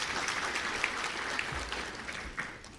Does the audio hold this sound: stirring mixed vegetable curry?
no